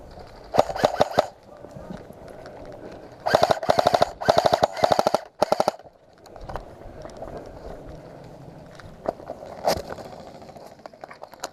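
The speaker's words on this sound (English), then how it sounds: "I'm now taking fire from across the way" Video-game gunfire from across the way in a firefight near a forward base: sharp bursts of automatic shots in clusters, a few early, a dense run in the middle, then scattered single cracks, with a faint voice underneath.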